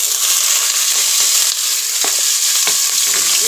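Chopped squash blossoms fry in a hot clay pot, a loud continuous hiss and sizzle broken by a few sharp clacks of stirring near the end, with no talk.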